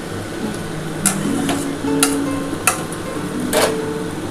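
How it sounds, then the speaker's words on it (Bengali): Chicken fries in mutton fat in a pan under a low, steady sizzle, broken by sharp metallic clanks of a spoon hitting the pan about once a second while it is stirred. "বন্ধুরা দেখো আমার কিন্তু চিকেনটা ভালোভাবে কষানো হয়ে যাচ্ছে।"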